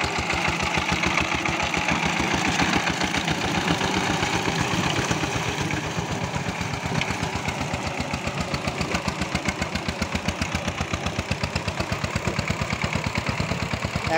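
A tractor engine runs steadily while plowing farmland on one iron wheel and one rubber tire, a close, continuous, chugging drone with a fast, even pulse and no talking.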